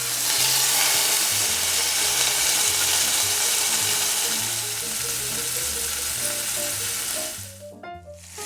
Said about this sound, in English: Okay, we've got them seared on all sides.